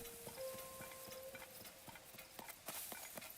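Horse hooves clip-clop at a steady trotting rhythm in a dungeon-crawling video game, fairly quiet under faint game ambience and a sustained tone, with no talk over it.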